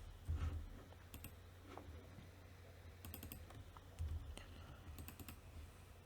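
Computer keyboard typing code in short bursts of soft clicks, quiet and close, with a few louder keystroke clusters spread across the stretch.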